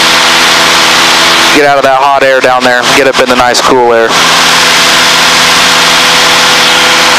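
The Air Plains 180 HP engine of a light aircraft in flight, heard as a steady loud drone under close, continuous talk through a cockpit microphone.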